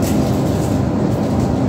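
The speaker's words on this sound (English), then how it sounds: "He said there's a train on the platform." Steady low rumble of a train running at a station platform, continuous and fairly loud throughout with no talk.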